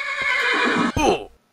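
A Minecraft horse lets out a loud, close whinny that wavers for about a second, then breaks into a second descending neigh before cutting off.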